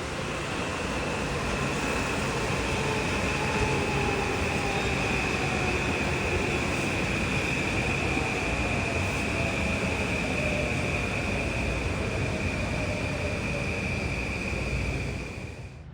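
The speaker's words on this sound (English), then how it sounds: "Here comes 1369, Stamford to Grand Central local." A Metro-North New Haven Line local from Stamford to Grand Central arrives at Riverside station, a loud, steady rumble of wheels and cars with a sustained high squeal, close by for the whole stretch.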